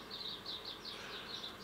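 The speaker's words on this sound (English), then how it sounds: "I do apologise if you hear lots of birds at the moment while I'm doing this." Birds nesting just outside a window chirp in a repeated series of high, thin calls, steady and moderately faint against a quiet indoor background, with no talking.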